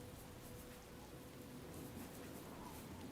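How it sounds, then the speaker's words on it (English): Steady rain from the Healing Rain weather power in Oblivion falls as a dense, even hiss, fairly faint and unbroken with no voices. "now we can press 4 and activate this, and it'll straight up change the weather."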